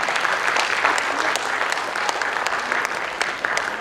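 An audience applauds after a stage play performance, dense sustained clapping from a crowd filling the whole stretch at steady loudness.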